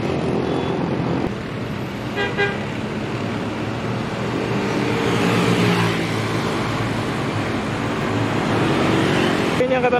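Murai Jaya bus pulling out of Madureso terminal in Temanggung, a steady engine drone and road rumble at moderate distance with a brief horn-like tone, continuous over ten seconds amid terminal ambience.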